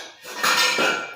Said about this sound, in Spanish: Un instrumento doble Que les denominamos placófonos.